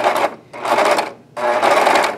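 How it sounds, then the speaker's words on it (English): A serger sewing machine stitches along a fabric edge in three loud, steady bursts of whirring, separated by short pauses, close by and with no voices. "I'm going to take the edge to the edge of the presser foot, push the foot feed,"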